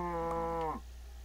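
A single cow moos in the Minecraft game, a clear, fairly loud tonal lowing call lasting under a second before cutting off into quiet background hum.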